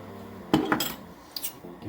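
Metal whisk clattering against a pan as cornstarch slurry is stirred into a honey, soy, ginger and tangerine wing sauce; a few close, sharp clinks in quick bursts, with quiet pauses between.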